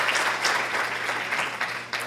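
An audience at a talk on attracting investors in Ecuador applauds, a steady wash of many hands clapping at moderate volume throughout the short stretch.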